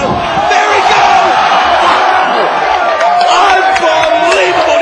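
A loud wrestling crowd roars and cheers steadily for AJ Styles at a live X Division title match against Petey Williams, a dense wall of voices lasting throughout with scattered slams and shouts.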